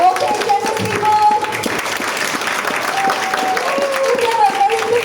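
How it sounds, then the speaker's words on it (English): An audience at a health supplements business talk in Malaysia applauds with sustained, dense clapping throughout, while a voice speaks over it. "Give a very big round of applause"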